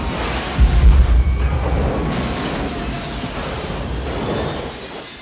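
A movie-scene rocket explosion lands as a loud, dense boom with crackling debris and a rumbling low end that rolls on and slowly fades over several seconds, with no voices.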